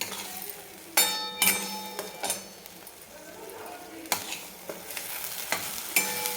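Spicy masala for stuffed brinjal is sautéed in a pan, with a low sizzle under sharp metallic clinks and scrapes of a spoon against the pan, close and intermittent.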